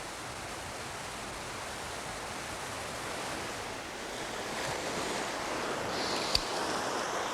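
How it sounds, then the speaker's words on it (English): Surf washing over a sandy shore, a steady broadband roar of breaking waves with a slight swell toward the end and one brief sharp knock near the close. "Every wave of every tide stirs the surface of the sand."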